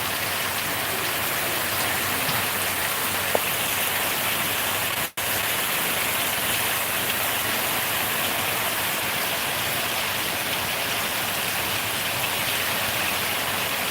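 Steady, dense rain pours down continuously, a loud close wash of drops on surfaces with one brief dropout midway; no voices.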